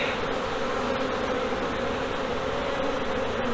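Honeybees drone in a dense, continuous buzz from an open hive during a frame inspection with smoke, loud and close throughout with no voices.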